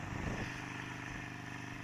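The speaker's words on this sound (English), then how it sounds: "I'm over revving it, messing up right now." A Harley-Davidson Iron 883 motorcycle engine is over-revved, giving a loud, sustained, rough roar with a steady pitch close by and no talking.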